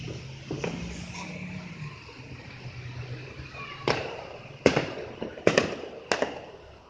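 Fireworks burst outside on a street in Washington, D.C., a few distant-sounding sharp cracks and pops scattered over a low background rumble, clustering more densely toward the end.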